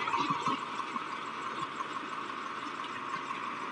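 A 1997 Swaraj 735 FE tractor engine turns an irrigation fan through its PTO, giving a faint, steady mechanical hum with a constant tonal whine and no break.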